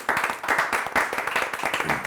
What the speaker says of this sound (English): Oh, big round of applause for Pallavi.